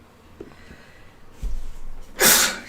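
A single sharp sneeze bursts out close and loud near the end, after a short indoor intake of breath and some quiet shuffling.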